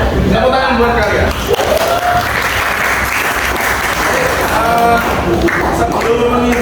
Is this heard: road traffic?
no